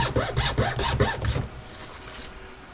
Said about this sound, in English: I just file it deep, bring it to an edge